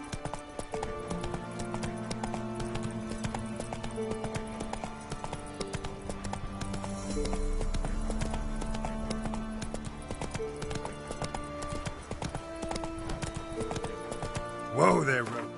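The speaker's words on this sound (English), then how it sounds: "Whoa there, Roach" In The Witcher 3 video game, a horse gallops with steady, rhythmic clip-clopping hooves under game music, ending in a brief neigh.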